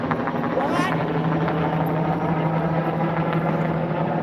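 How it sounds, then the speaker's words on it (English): A helicopter flies overhead at night, its loud, steady rotor thump and engine roar filling the scene without a break. "That helicopter's a lot louder than anything I've heard out here tonight."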